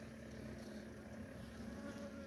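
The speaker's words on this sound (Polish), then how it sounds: "mamy tutaj rameczkę, a na niej piękne pszczołki" Honeybees on a frame pulled from a 2022 nucleus hive, buzzing in a dense, steady, close-up drone that holds for the whole moment.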